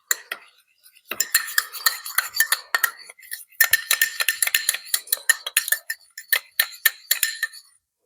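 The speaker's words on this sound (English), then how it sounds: "And mix the whole thing." A simple budget lunch tossed together in a bowl with utensils, a run of quick close clinks and scrapes of metal on dish in uneven bursts, pausing briefly before another busy stretch.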